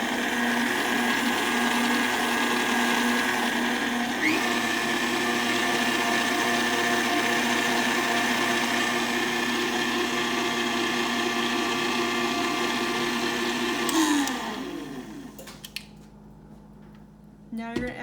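An electric stand mixer beating cake batter whirs steadily and loudly with a constant motor hum for about fourteen seconds, then winds down and stops, leaving near quiet with a few faint handling noises.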